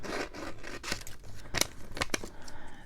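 Scissors snipping while making slides with beeswax, a series of quiet, close, crisp cuts in an uneven rhythm.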